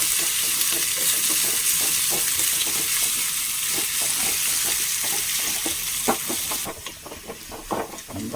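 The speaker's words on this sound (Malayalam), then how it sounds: "പച്ചമുളകും ഇഞ്ചിയൊക്കെ മൂത്ത് നല്ല മണം വരുന്നുണ്ട് കേട്ടോ" Green chili and ginger frying in a pan give a loud, steady sizzle with occasional stirring clatter, easing somewhat near the end, with no talking.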